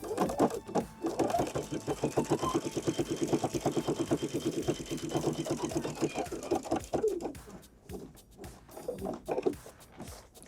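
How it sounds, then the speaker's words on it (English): A sewing machine runs a top stitch along a jeans fly front, a fast rhythmic whirring hum that stutters and slows near the end, close and fairly quiet. "I'm going to add that top stitch here."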